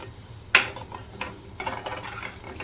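Masala cooks in ghee for a yogurt-based arbi curry while a spoon stirs it, sharp scraping strokes and clinks against the pan over a soft continuous sizzle.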